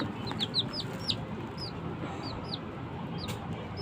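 A three-day-old baby chick chirps while eating, giving repeated high, thin peeps, some close together and some spaced apart, over a steady hum of background noise.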